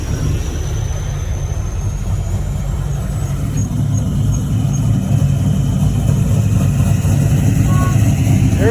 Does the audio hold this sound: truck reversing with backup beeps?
yes